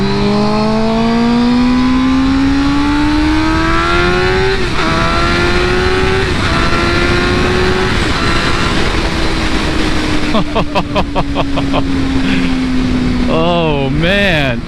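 A Suzuki GSXR 600 fitted with a new Vortex chain and sprocket accelerates hard on the road, its engine climbing in pitch through several gear changes before easing off and revving again, loud and close with wind rush.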